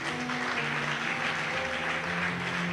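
A church congregation applauds, a dense, steady wash of many hands clapping at once, loud and sustained without a break.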